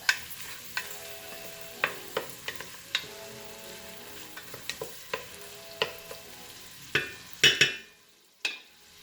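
Mushrooms sizzle in a pan for clam sauce, a soft steady frying hiss broken by frequent sharp clicks and scrapes of stirring, close and with no talk.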